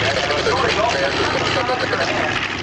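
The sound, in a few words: B-25 Mitchell bomber piston engines running at airshow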